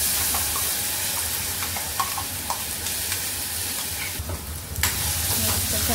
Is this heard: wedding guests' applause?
no